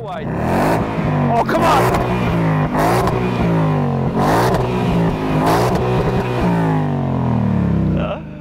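The V8 engine of a 2022 Ford Mustang Mach 1 revs loudly and repeatedly, its deep roar rising and falling in several close, full-throated bursts before settling.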